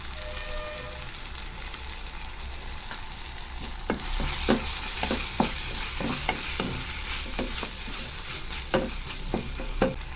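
Tomatoes with ginger-garlic paste sautéing for a chicken and drumstick curry: a steady soft sizzle, then from about four seconds repeated scraping stirs of a spoon in the pan, close and alone.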